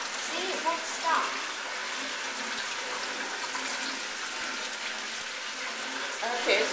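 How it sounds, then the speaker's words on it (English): A stainless steel blowout toilet with a broken flush valve running nonstop, a loud continuous rushing and hissing of water that never lets up, with brief voices over it. "this is the never-ending flushing toilet"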